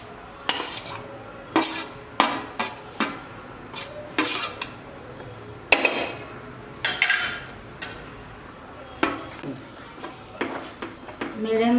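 Cashew powder stirred in a pan of sugar syrup over a medium flame for kajukatli: repeated scraping clinks of a spoon against the pan at an irregular pace, moderately close, with a voice talking in between.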